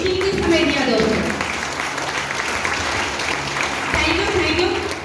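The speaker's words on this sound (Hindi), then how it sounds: "एक बहुत ही शानदार ताली आप लोग खुद अपने लिए बजाइए" Hands clap in a dense, steady wash from an audience, sustained for several seconds, with a voice talking over part of it.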